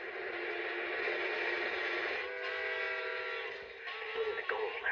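A train rolls along steadily with a hissing, rumbling wash and sustained whistle-like tones, heard at moderate volume in a film scene with no talking.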